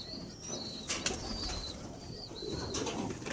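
Pigeons coo and rustle nearby, with a couple of brief wing flaps and faint chirps over low background noise.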